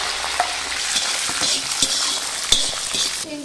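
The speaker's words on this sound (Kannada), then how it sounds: "ಆಮೇಲೆ ಶೇಂಗಾಕಾಳು ಮತ್ತು ಕಡ್ಲಿಬೇಳೆ ಹಾಕಿ ಮೊದಲು ಚೆನ್ನಾಗಿ ಹುರ್ಕೋಬೇಕು" Mustard seeds, peanuts and chana dal frying in a pan over a stove, a close, busy crackle and sizzle punctuated by several sharp pops and faint spoon scrapes, with no voices.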